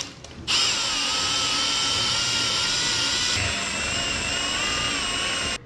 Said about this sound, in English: Then you get yourself a drill motor and slowly mix it.